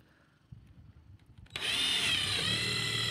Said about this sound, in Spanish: Ahora les estoy voy a hacer huecos con mi taladro